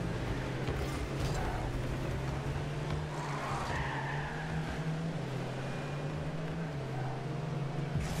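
A car drifting in the Rocket League video game gives a steady, loud engine drone with a sustained hiss of tires sliding over the pitch, unbroken and without talk.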